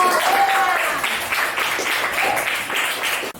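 A classroom audience claps for a student group after its presentation, a dense burst of applause that holds steady for a few seconds and then cuts off abruptly.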